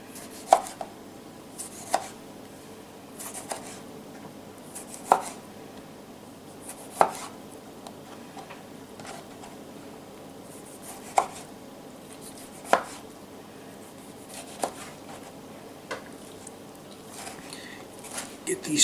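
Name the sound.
chopping food into chunks on a cutting board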